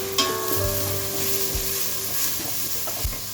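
Onion, chili and garlic fry in a pan over fennel seeds and mustard seeds, a continuous close sizzle and crackle with a few soft knocks of stirring, and no one speaking.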